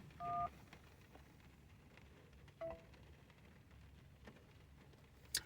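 Telephone keypad tones during an automated phone survey: two short, clear beeps a couple of seconds apart over quiet background hiss.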